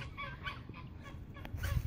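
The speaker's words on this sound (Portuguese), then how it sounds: "Eu vejo essas galinhas da Angola aqui." Guinea fowl give repeated harsh, honking calls at moderate distance on a ranch, with a low rumble of background noise.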